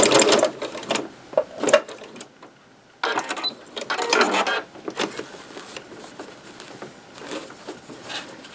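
A sewing machine stitches a seam on a quilted to-go craft bag, its rapid mechanical patter running in close, loud bursts that stop and restart several times.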